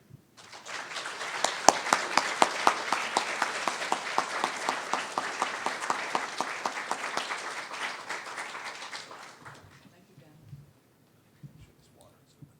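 A lecture audience applauds to welcome the speaker. The clapping stays steady and full for about nine seconds, then fades to a few scattered claps, with faint voices afterward.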